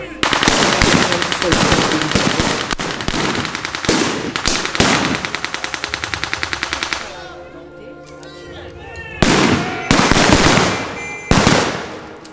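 Rapid machine-gun bursts and sharp blasts ring out at a Polish-Bolshevik war battle reenactment, loud and close, with a brief lull of ringing tones before more heavy gunfire volleys return.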